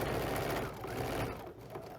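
Sewing machine stitching fabric for a table runner, a continuous rapid mechanical whirring of the needle running close and loud, slowing slightly near the end.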